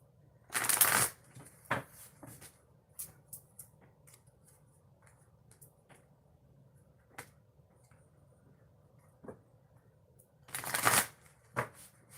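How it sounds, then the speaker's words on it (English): Two brisk riffle shuffles of an oracle card deck, near and crisp, separated by quieter handling, tapping and small card clicks. "Let's shuffle the deck and hit it to the next oracle reading."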